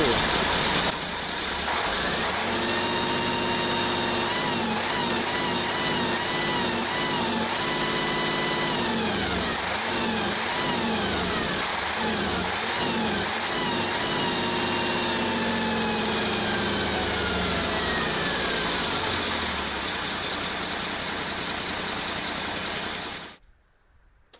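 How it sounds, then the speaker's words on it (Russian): A diesel engine in an off-road vehicle build runs with a rough, clattering idle and rising and falling revs, loud and close, then cuts off abruptly at the end. "он все равно так работает достаточно жестко. Сейчас покажу."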